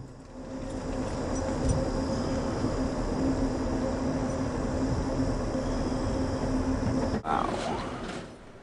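A train rolls along the railroad in New Mexico with a steady rumble heard from on board, a sustained tone running until a brief break near the end.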